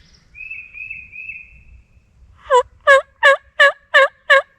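A wild turkey gobbles out in the open near a ridge at dawn, a rapid run of about six loud, rattling gobble pulses following a faint, thin high call at the start.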